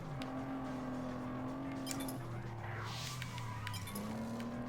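A steady race car engine drone from the video game Test Drive Unlimited, played on a gaming wheel, hums throughout with shifting pitch, plus a few faint clinks.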